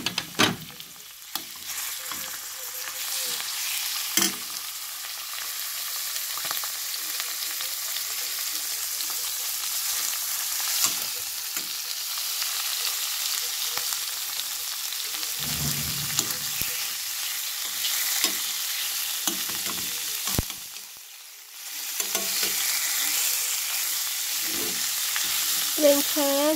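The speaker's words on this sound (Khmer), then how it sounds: "យើងដាក់ប្រេងឆាទៅ ឆាសាច់ជ្រូកវា" Pork stir-frying in olive oil for Korean kimchi stew, a steady close sizzle lasting throughout, broken by occasional stirring knocks and scrapes and a brief lull before the frying surges again.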